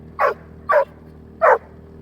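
A dog on an off-grid houseboat during a snowstorm gives three short, sharp barks close by, evenly spaced with quiet gaps between.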